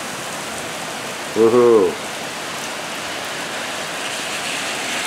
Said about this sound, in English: It is downpouring.